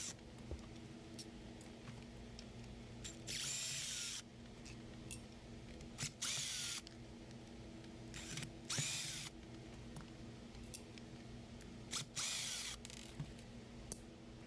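A power screwdriver backs out Phillips head screws from the cord and trigger end of a Shine Mate EX620 polisher, with several short whirring bursts of a few seconds each, separated by faint clicks and handling noise.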